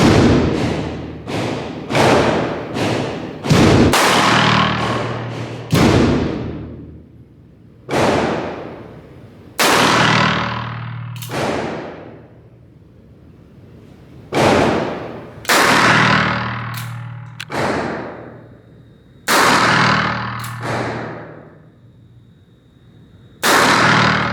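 A .38 caliber Colt open top revolver fires a long string of loud, sharp gunshots outdoors at a western-themed shooting day, shots coming in quick pairs and singles with brief ringing decay between them.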